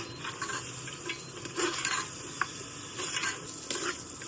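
Ground masala paste fries in oil in a pan for a spicy Agri-style dal curry, a faint steady sizzle with soft stirring scrapes and a few light clicks, no voices.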